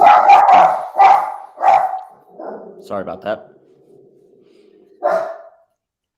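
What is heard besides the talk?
dog barking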